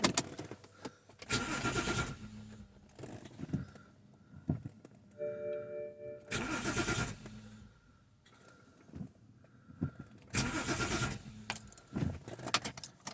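BMW N52 engine cranking without starting, three separate bursts of starter whirring, each about a second long, separated by quiet gaps with faint clicks, close and alone.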